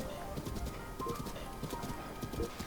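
Horse hooves gallop steadily through woodland in Breath of the Wild, a quiet, even clip-clop rhythm carrying on throughout with faint ambient sound beneath.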